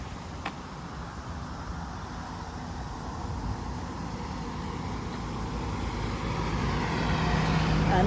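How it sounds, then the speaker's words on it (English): A motor vehicle approaches along a road near a bridge on a morning walk, its low rumble and tyre roar building steadily louder over several seconds against a background of outdoor ambience. "So you see the vehicle coming from here."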